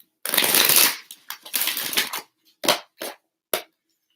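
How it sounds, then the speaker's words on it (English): A deck of cards is shuffled up close in a run of crisp riffles and slides, a long burst at first, then several shorter, separate snaps with brief pauses between. "I'm just going to shuffle the deck."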